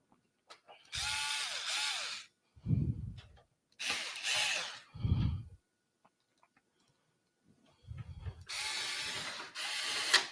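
A powered screwdriver drives screws into a computer case, whirring in several short bursts with pauses between them, close and fairly loud, with a lower thunk as each screw seats.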